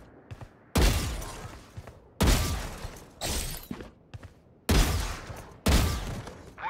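Gunfire as bots are shot in the video game Valorant, five loud, sharp bursts of rapid shots separated by short quiet gaps, with faint game sounds between them.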